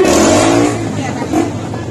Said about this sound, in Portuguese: Gira a máquina, Davi.